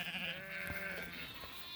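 Sheep flock on a pasture farm bleating, a couple of wavering calls overlapping close by against a soft outdoor background.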